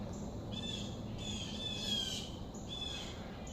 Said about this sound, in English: A lot of birds are up this morning, blue jays.